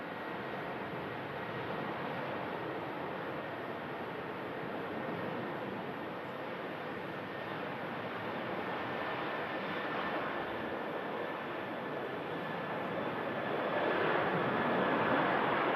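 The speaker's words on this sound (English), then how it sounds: "A330 for Orlando on the move." An Airbus A330 bound for Orlando takes off from Manchester Airport, a broad steady jet engine roar held at a distance that swells slightly louder near the end, with no voices.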